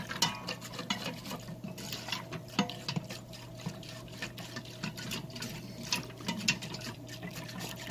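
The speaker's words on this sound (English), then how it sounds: "That's what the whisk is for. So let's mix it up really well." A whisk stirs a yogurt mixture inside an Instant Pot, making quick, irregular wet clicks and soft sloshing scrapes at close range with a faint steady hum beneath.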